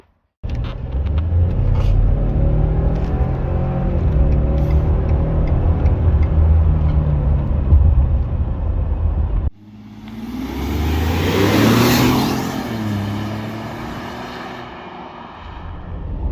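A 2022 Ford Super Duty pickup on a 4-inch lift with 305 tires and a 10-speed transmission, its engine droning steadily while driving, then a cut to a louder rev that swells and settles back, heard from inside the cab.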